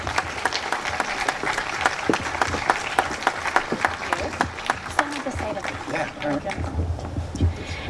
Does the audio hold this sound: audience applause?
yes